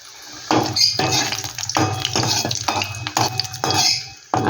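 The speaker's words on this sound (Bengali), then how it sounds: "এবার আমি বড়িটা ভেজে নিচ্ছি।" Lentil dumplings (bori) fry in hot oil in a wok, with repeated bursts of scraping and clattering as they are stirred, close and fairly loud, with no talk.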